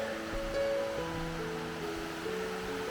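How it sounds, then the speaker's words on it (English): A waterfall in South Carolina, heard as a steady broad rush of falling water from a short hiking distance, joined by a few sustained tonal hums in the background, with no talking. "That is an impressive waterfall."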